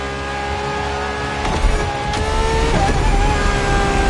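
Ferrari LaFerrari petrol-electric hybrid supercar in The Crew Motorfest, its engine droning steadily with layered harmonic tones, swelling slightly louder midway through the clip with no talking.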